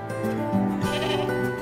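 Goats bleating on a small organic farm that raises 50 to 70 goats a year, with several overlapping close, loud bleats in a steady run, no voices over them.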